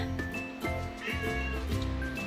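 A cat meows loudly and repeatedly in quick, insistent calls, close by, with faint background noise.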